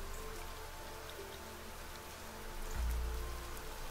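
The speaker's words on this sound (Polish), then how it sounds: "Dobra, widzę, że pada deszcz." Rain falls in the Niche video game as a soft, steady hiss of drops, faint and continuous, with a low rumble rising briefly near the end.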